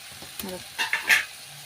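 Masoor dal lentils hitting a hot pan at home and frying: a soft sizzle with brief scraping stirs and crackles, close and fairly quiet, with no voice.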